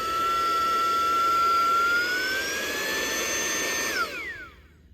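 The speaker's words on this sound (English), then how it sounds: "So it blows pretty good out the back." A Saker mini brushless 3-in-1 car vacuum cleaner runs with a loud, steady high-pitched motor whine that rises slightly in pitch, then spins down near the end.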